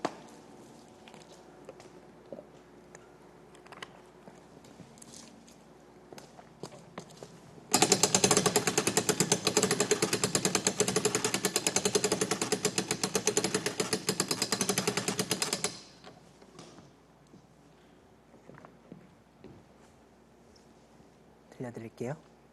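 A music box is wound by hand, producing a loud, rapid mechanical ratcheting clatter that runs for about eight seconds in the middle, with a quiet room and light handling noise around it.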